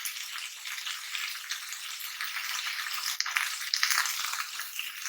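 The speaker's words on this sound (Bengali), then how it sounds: "আমরা এখানে মশলাগুলো কষিয়ে নেব" Chili and coriander powder spices sautéing in a pan, a steady soft sizzle with faint stirring scrapes and light rattles, close and quiet, with no talk.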